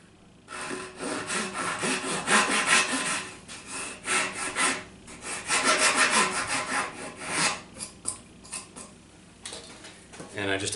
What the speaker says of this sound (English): I just cut it by hand. So I use a little handsaw.